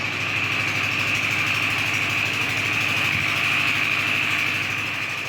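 A generator runs steadily and loudly close by, its even engine drone holding without a break and with no voices over it.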